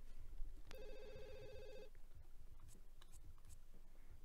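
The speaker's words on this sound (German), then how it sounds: "Geh mal ans Telefon, bitte." A phone rings in The Sims 2 with one electronic trill burst lasting about a second, soft and clear over quiet game ambience and a few small clicks.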